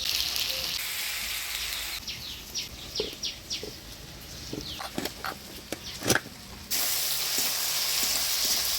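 Tomato and crushed garlic frying in a pan, a soft steady sizzle with scattered stirring clicks and scrapes, then a louder burst of frying hiss near the end; faint bird chirps sound in the background.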